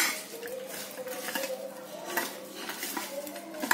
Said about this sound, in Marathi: हाताने मिसळून घ्यायचं